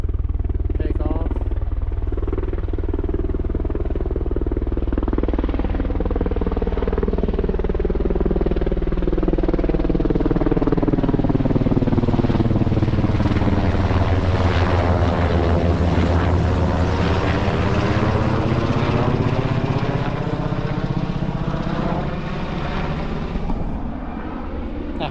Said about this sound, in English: Here she comes. The chopper that I saw